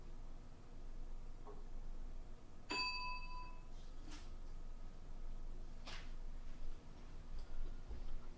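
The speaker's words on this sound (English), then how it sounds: "I found a second bell, a different one we don't usually use" A small bell, a different one from the usual, is struck once and rings out clearly with a bright, sustained tone that fades over about a second, followed by a few faint taps in a quiet room.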